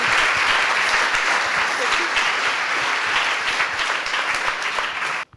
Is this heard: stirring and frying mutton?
no